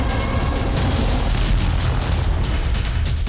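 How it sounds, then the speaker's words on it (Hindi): Continuous heavy rumbling and booming blasts from a Russian ballistic missile attack on Kharkiv, dense and loud throughout, like distant explosions rolling into one another. "रूस ने खार्किव में एक के बाद एक कई बैलिस्टिक मिसाइलों से हमले किए।"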